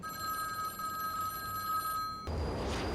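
A telephone rings in The Matrix (1999), a quiet, steady electronic trill that continues for about two seconds before cutting off into a low rumble.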